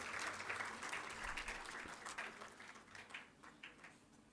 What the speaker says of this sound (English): I would want you all to give her a huge round of applause